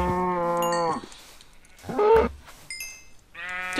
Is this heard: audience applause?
no